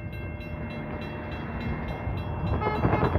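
A Norfolk Southern NS 11E freight train rolls through Marion Union Station in Marion, Ohio, with a steady, loud rumble of rail cars that swells near the end, and no talking.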